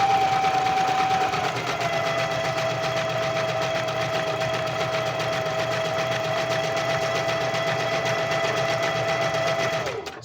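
A domestic sewing machine, driven by a foot pedal with its light switched on, runs steadily for about ten seconds in a loud, close, continuous whir and then stops abruptly at the end.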